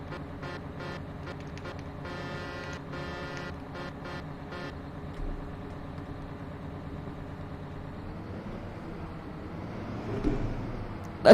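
The horn of a Big Bud tractor in Farming Simulator 17 sounds in a run of short, stuttering honks over the idling engine, then stops and leaves the low engine rumble alone.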